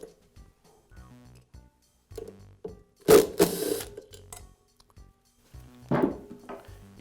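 An impact driver loosens the blade screws on a DeWALT planer cutter head, giving a few short, loud, close bursts separated by quieter handling clatter.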